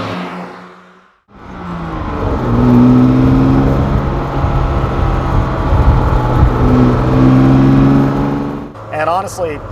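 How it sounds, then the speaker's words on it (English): A 1965 Maserati Mistral coupe engine, heard after a brief pause as it rises into a loud, sustained vintage rev with slow, smooth climbs and dips in pitch, close to the microphone. "It has that vintage kind of slow revving feel to it."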